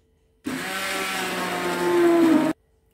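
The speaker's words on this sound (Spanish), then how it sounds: "vamos a triturarla con el perejil. Y lo batimos." A blender whirs at close range, pureeing onion with parsley. The motor starts abruptly, holds a loud, steady whine that strains a little higher toward the end, and then cuts off sharply.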